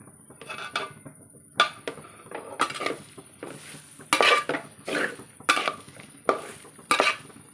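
Tender young jackfruit mixture is stirred in a pot with salt, giving a series of scraping, clinking spoon strokes against the metal, roughly a dozen close bursts in an uneven rhythm, with no talk.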